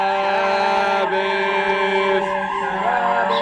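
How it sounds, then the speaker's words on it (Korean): A steady, loud civil siren tone sounds continuously over a street, marking the start of the Sabbath. The drone stays sustained and unbroken with a slight rise and fall, and no voices are heard. "사이렌이 울립니다."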